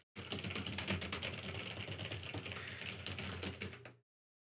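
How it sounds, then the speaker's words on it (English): Steady, rapid keystrokes on a computer keyboard during a typing test, dense clicking running continuously for about four seconds at moderate level, then stopping abruptly. "I wanna figure out how good I am at typing."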